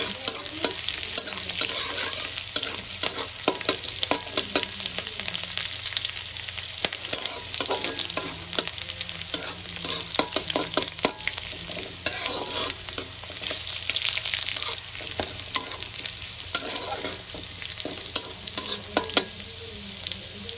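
Garlic lightly frying in a pan for egg and prawn chowmein, with a continuous bright sizzle and busy, repeated stirring and spatula scrapes throughout, fairly close and without talk.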